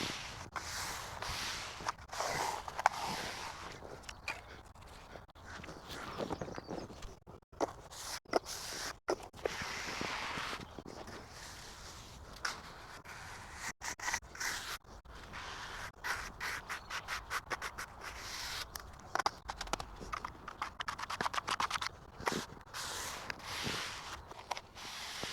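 Trowel scraping and working a mortar mix in a garden, repeated gritty rubbing strokes at close range in an irregular rhythm with short pauses.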